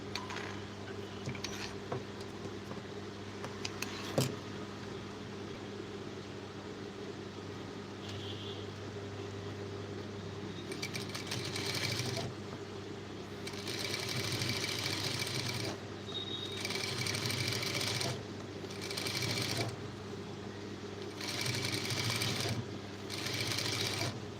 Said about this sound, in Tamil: நான் வந்து வேகமாக தைக்கிறேன்